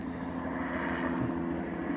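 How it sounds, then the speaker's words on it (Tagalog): Police helicopter circling over a residential neighbourhood, its steady rotor and engine drone loud and continuous throughout, with no voices. "sa helicopter na yan."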